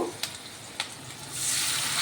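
Marinated meat goes into a pan of fried onions, with a couple of sharp clinks and then a sizzle that swells loud and stays steady and close.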